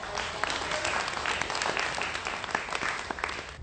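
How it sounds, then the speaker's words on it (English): Audience applause at a community panel event on intergenerational trailblazing, a dense, steady clatter of many hands clapping that holds at an even, fairly loud level for the whole stretch with no voices over it. "so let's get a round of applause for"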